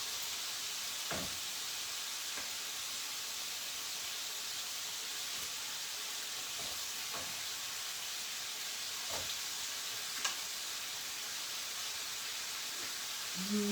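Hilsa fish pieces fry in hot oil, giving a steady bright sizzle and hiss with scattered faint pops and crackles, unbroken throughout.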